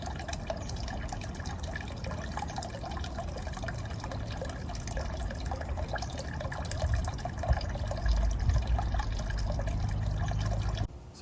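Water trickles and splashes continuously in a small solar water feature made from a galvanized tub, a steady close burbling that grows slightly fuller toward the end.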